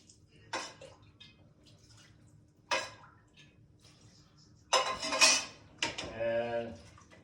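Spoon stirring thick corn and lobster chowder in a pot, a few separate clinks and scrapes against the metal, faint and close, with quiet pauses between them.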